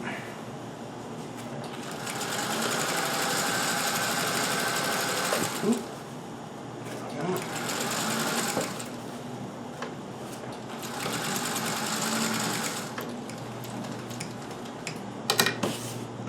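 A Singer 201K sewing machine stitches a cravat in several close, steady runs of rapid mechanical whirring, separated by brief pauses and faint handling clicks, with no speech.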